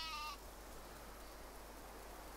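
A single short sheep bleat from the video game Windborne sounds at the very start, then fades into a faint, steady hiss of game ambience.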